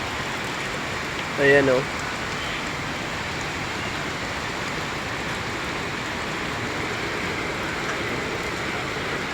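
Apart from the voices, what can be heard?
rain getting heavier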